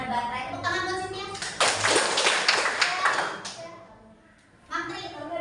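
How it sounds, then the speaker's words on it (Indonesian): Students clapping in a high school physics classroom for a classmate named Cynthia, a burst of bright, close hand claps that fades out, with children's voices chattering over and around it. "Tepuk tangan buat Cynthia."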